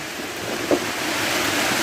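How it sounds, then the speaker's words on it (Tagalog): A steady, dense hiss of heavy rain fills the whole moment, loud and unbroken, with no voices. "Wa may adlaw, kusog kay ulan."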